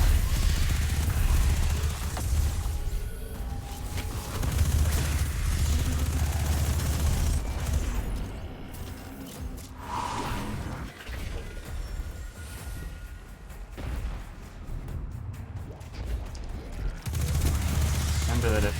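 Continuous gunfire from the video game Destiny 2 in the Vesper's Host dungeon: dense, loud automatic fusillades with booms and mechanical clatter that go on without a break, with occasional quiet talk underneath.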